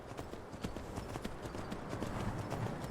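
Rapid clip-clop of horse hooves trotting at a steady pace in the video game Skyrim, fairly close, continuous over a low background hum.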